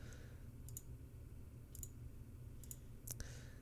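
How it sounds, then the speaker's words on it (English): A computer mouse clicks while someone works in Photoshop, about four or five crisp, faint, close clicks spaced out over quiet room tone. "I'm just clicking as we're going."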